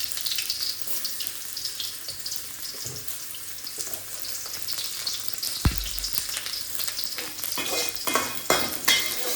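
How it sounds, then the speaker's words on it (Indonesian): Spice paste sautés in a hot pan, giving a bright, continuous sizzle with stirring scrapes and a sharp clatter midway. The sizzle rises again toward the end, and there is no talking. "Waktunya kita tumis bumbunya untuk sayurnya."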